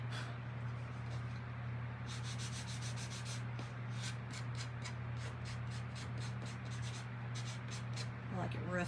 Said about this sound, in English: I'm going to take my sanding block, y'all, and I just want to distress the edges just a little bit more